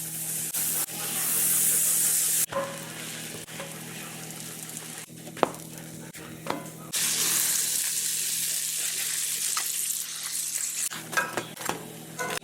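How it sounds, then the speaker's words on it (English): Butter melting in a cast iron pan on very high heat, sizzling and spitting in bursts with brief pauses and clinks, loud and close. "Just gonna get a little butter in the pan."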